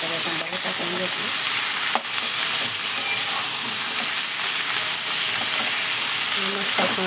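Chopped raw green tomatoes and salt frying in a pan give a steady, close sizzle and hiss that runs without a break, with soft stirring scrapes heard now and then.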